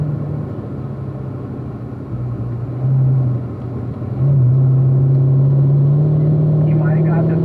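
Corvette race car lapping a track, its engine a steady droning rumble heard from inside the cabin, with the pitch rising as the car accelerates, under a constant background roar.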